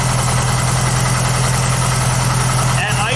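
A 1956 VW Beetle engine idling with a steady, even low throb throughout, loud and close.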